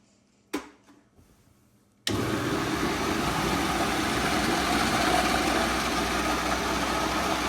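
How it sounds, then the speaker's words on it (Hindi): An electric chopper grinds mustard greens for Punjabi-style sarson ka saag, starting with a brief knock and a short pause, then a loud, steady whirring motor drone that runs on continuously. "अब इसे हम ग्राइंड करेंगे चॉपर में डाल के"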